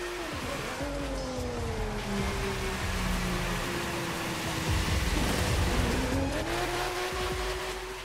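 Drifting car in the racing game The Crew 2 squeals its tires continuously through long sweeping slides, with a steady revving engine drone and rising and falling pitch as the car swings through the turns.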